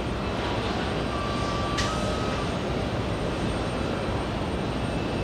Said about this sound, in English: JetBlue landing on 4 right.